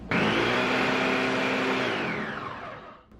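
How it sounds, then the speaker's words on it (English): A blender whirring a flan mixture with vanilla paste, a loud close motor drone that holds steady and then winds down and cuts off near the end. "and then blend it"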